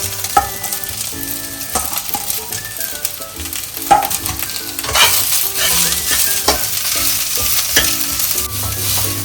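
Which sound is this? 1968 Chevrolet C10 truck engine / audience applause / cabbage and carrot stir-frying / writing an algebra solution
cabbage and carrot stir-frying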